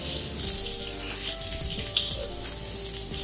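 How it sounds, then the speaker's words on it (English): Tomatoes and spinach fry in a pan with a steady broadband sizzle and crackle, a faint clink and bubbling pops breaking through near the middle, no voices. "So I'll just turn my tomatoes over, and you can see now they're starting to take on a colour"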